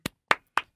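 Three single hand claps, evenly spaced and crisp, close to the microphone in an otherwise quiet room.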